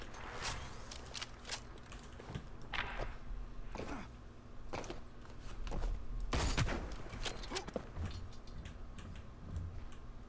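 Quiet rapid gunfire bursts from the Hyper Scape shooter game, several clusters of sharp shots spread across the stretch, with a louder volley midway and sparse clicks between.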